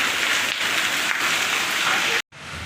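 Heavy rain in Mehsana drums onto a car roof and the ground, a thick, continuous near hiss that cuts out briefly near the end before resuming.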